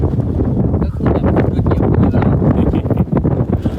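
Wind blows steadily outdoors at Khao Yai with a constant loud rush and buffeting against the microphone, and a voice is faintly present.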